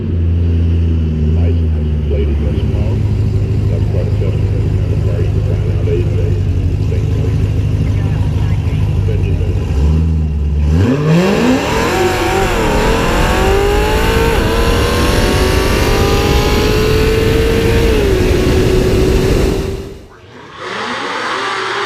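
A gutted Tesla P100D and a heavily modified Cadillac race down a dragstrip, loud engine and drivetrain noise building steadily with a rising whine through the run, then a sudden cutoff near the end.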